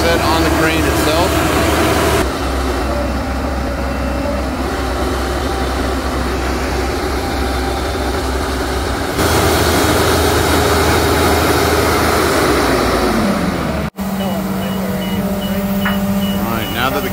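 A heavy crane diesel engine drones loudly and steadily up close while the counterweight is set, its pitch shifting in stages as the load changes, with a deeper hum toward the end.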